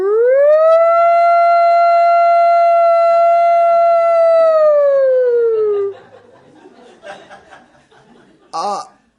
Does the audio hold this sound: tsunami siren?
yes